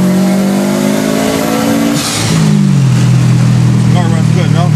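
A Honduran Subaru WRX engine revs hard nearby in El Salvador, its pitch sweeping up and dropping, then climbing again as the car accelerates; a voice speaks briefly over it.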